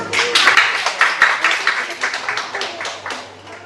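Audience applause in a church gathering as a guest is welcomed to share her testimony, a dense burst of many hands clapping that rises quickly, holds steady, and tapers off over a few seconds, with a low hum underneath.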